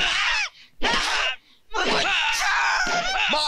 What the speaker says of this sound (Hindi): इन सब की दर्द भरी आवाजें सुनती रहेगी, चीखे सुनती रहेगी